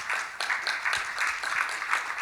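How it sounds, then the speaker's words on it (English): A seminar audience applauds its panelists with a steady patter of many hands, moderately near and even in level throughout, with no voice over it. "a round of applause"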